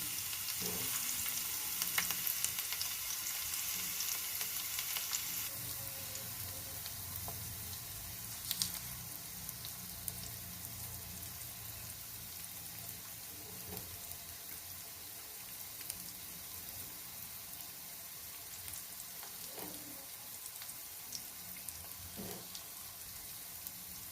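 Sliced plantain, urad dal and garlic fry in a pan with a continuous close, soft sizzle, broken now and then by light stirring taps.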